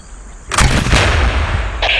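Gunfire in the video game Tom Clancy's Ghost Recon Island Thunder: a sudden loud blast followed by a rolling, echoing report, with a second brief burst near the end.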